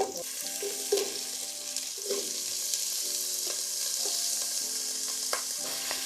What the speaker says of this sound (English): Straight into here, and you'll hear a little sizzle.